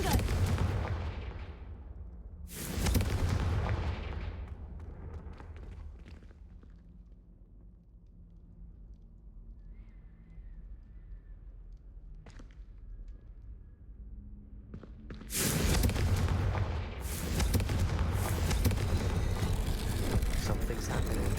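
Confringo fire spell explosions in Hogwarts Legacy, two heavy booming blasts with rumbling tails, separated by a quieter stretch with faint game sounds, then another cluster of loud bursts.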